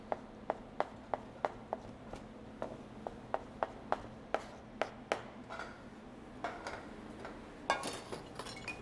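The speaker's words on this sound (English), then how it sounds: "Then we will take a rough chop." A knife rough-chops vegetables on a cutting board, giving a quiet, steady run of sharp taps at roughly even intervals, then a brief cluster of faster, scrappier knocks near the end.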